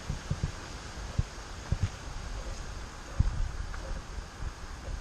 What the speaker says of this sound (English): How much windier it is.